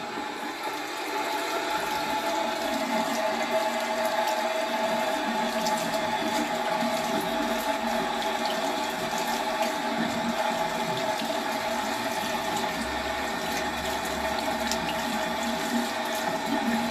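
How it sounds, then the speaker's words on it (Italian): Cold water runs steadily from a tap into a sink for a long stretch while someone rinses their face, the flow constant, close and fairly quiet with no talk. "Mi sciacquo, ragazzi. Acqua fredda, go go"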